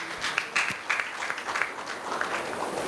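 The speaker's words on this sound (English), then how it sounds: "Please, a round of applause for her." Applause from an audience at a women in finance and investment summit in Ghana: brief, moderately faint clapping with a few sharper claps standing out.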